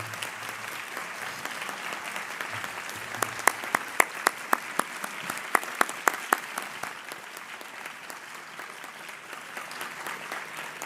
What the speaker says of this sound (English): so you can join me in applauding their work on our behalf